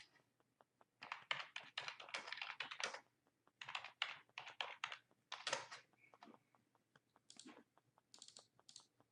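Rapid bursts of keys being typed on a computer keyboard, entering a short line of text into an online form, fairly close and clear, with brief pauses between clusters of keystrokes and no talking.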